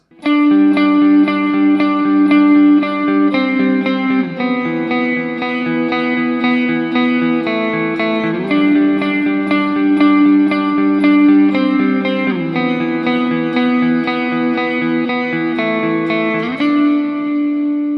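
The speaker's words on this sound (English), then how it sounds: "that is the sort of guitar solo" A sustained, effect-laden guitar melody plays continuously, notes gliding and shifting over a steady tone, loud and unbroken with no talking.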